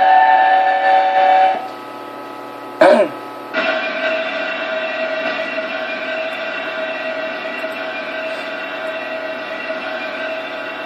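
Steam locomotive Mallard in Train Simulator, a steady sustained mechanical drone with tonal whistle-like harmonics and a brief louder burst partway through, fairly loud and continuous with no talking.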